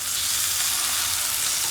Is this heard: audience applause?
no